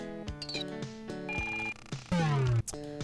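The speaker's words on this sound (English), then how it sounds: "That noise you're hearing in the background now, apparently that's supposed to be a phone." Electronic telephone ring from the Glider PRO video game, a repeating warbling tone pattern that stays fairly loud and steady alongside other game bleeps and a descending electronic tone, with no talking.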